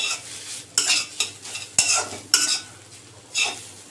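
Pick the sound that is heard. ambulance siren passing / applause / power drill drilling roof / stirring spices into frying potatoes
stirring spices into frying potatoes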